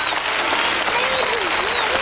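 A gymnastics arena crowd applauds a 9.9 balance beam score at the 1995 World Championships event finals, a dense, loud, steady wall of clapping and cheering that holds for about two seconds, with faint whistles rising above it.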